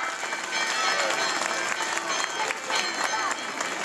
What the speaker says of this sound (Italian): Un applauso alla Madonna.